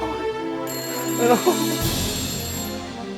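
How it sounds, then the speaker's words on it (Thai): A telephone rings with a steady electronic tone that starts partway through and continues to the end, heard under a person talking nearby. "โทรศัพท์มา ไม่ได้อะไรนะมารับโทรศัพท์"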